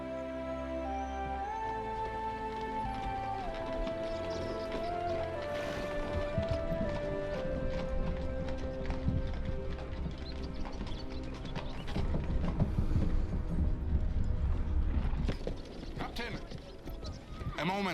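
Horse hooves clip-clop steadily in the Medieval Dynasty game, a close rhythmic trot running under game music and ambience for most of the stretch, with voices talking over it.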